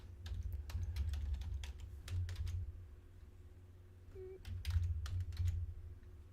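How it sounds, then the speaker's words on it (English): Rapid computer keyboard typing in bursts of clicks and clacks over a low steady room hum, with a short pause in the middle before the keystrokes resume. "I know you can't see anything I'm typing here."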